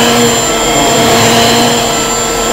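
An old school vacuum cleaner runs steadily at close range, a loud, continuous whining roar with a constant high tone and no pauses or voices.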